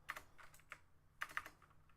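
Quiet computer keyboard typing, a few sparse, irregular keystrokes with short pauses between them, close and soft with no talking.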